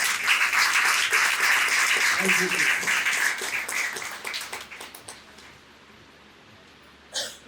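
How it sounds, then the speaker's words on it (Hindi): A church congregation at a Sunday service in India bursts into loud, dense applause that fades away over several seconds, then a single short clap or thump sounds near the end. "जोरदार ताली से परमेश्वर की महिमा दे।"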